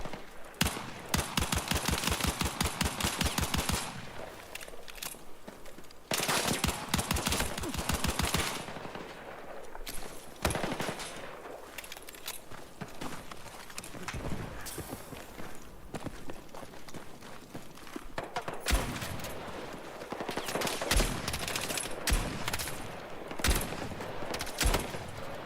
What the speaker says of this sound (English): Shotgun's so crazy. It shoots so far.